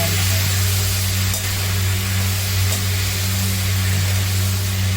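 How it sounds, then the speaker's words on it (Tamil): Mixed vegetables sautéing in oil in a pan for a Tamil home-style mandi dish, a loud continuous close sizzle with a steady hum underneath and no pauses. "காயை நல்லா ஒரு பத்து நிமிஷம் எண்ணெயில் வதக்கிடணும்"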